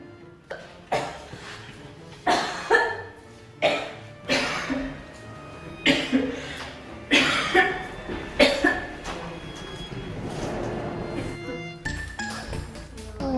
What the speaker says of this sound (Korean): 저 기침이 너무 심해서 왔는데